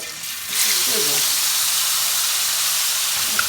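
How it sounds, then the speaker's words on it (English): Chicken sizzles in a hot pan, a loud, steady hiss that swells in after a brief pause and holds evenly, with faint indistinct voice at the very start. "I've got my chicken that's going to be going. And this will sizzle back."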